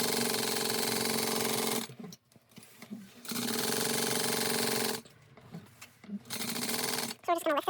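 Sewing machine basting a lining onto a backpack, two long steady runs of fast close mechanical whirring broken by quiet pauses with handling noise and brief speech.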